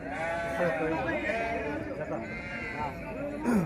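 Sheep bleating in a busy Gudur sheep market, with several overlapping wavering cries close by as people talk and bargain in the background.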